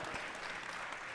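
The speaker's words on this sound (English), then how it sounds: "let's clap for that." Audience at a political podcast taping claps steadily throughout, a dense, even patter of many hands with no breaks, moderately loud and close.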